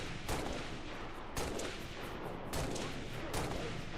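Gunshots in the Halo video game: several sharp bursts of gunfire at uneven intervals over a dense, noisy background, fairly faint overall.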